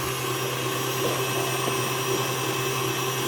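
An electric mixer whips cream on medium-low, a steady, even motor whir with a constant hum that holds level throughout, with no voices.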